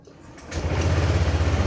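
A Honda Click 150 V2 scooter engine cranks and catches, settling into a steady, close, pulsing idle after a short quiet start.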